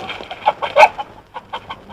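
Chicken, a hen carried inside a bag, clucking in a series of short sharp squawks and cackles, close and fairly loud, with one louder excited burst in the middle.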